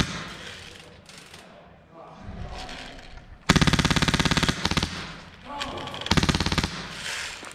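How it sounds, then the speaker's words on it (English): Airsoft gunfire rattles out of a doorway and windows during a large milsim game, with two loud, close bursts of rapid shots and quieter distant fire between them, while players talk. "they keep shooting out those windows in that doorway"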